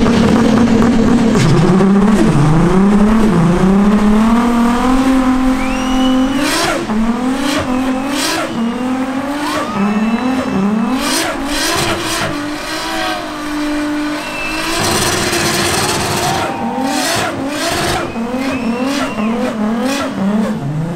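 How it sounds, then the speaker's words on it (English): A Toyota Supra doing a burnout at a Street Car Takeover contest: loud engine revving in rising and falling bursts with sustained tire squeal, close and continuous, a faint voice now and then. "We're gonna check out the burnout contest here at Street Car Takeover."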